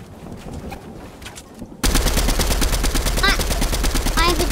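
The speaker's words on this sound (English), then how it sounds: "Brad, did you notice that epic auto shotgun?" After a quieter opening, a video-game auto shotgun erupts into rapid, evenly spaced blasts that continue loud and dense to the end, with brief game sound effects mixed in.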